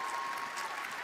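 Google I/O audience applauding and cheering in a large hall, a steady dense wash of clapping that holds at the same level throughout, with no voices standing out above it.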